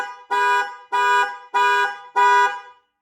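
A Ford Super Duty pickup's horn honks four times from a keyless-entry panic alarm, in a steady rhythm, each blast about a third of a second long, loud and close with no voices.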